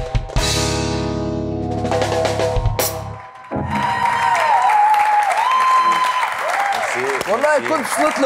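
A studio audience at a Ramadan television talk show breaks into applause, a dense clapping wash opening the clip, then music and a voice take over with clapping carrying on underneath.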